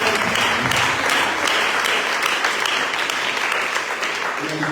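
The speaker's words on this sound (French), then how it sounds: "Acclamez pour frère Dieu" A church congregation claps steadily and loudly for several seconds during a Tuesday worship service, a dense, continuous wash of many hands with a few voices faintly mixed in.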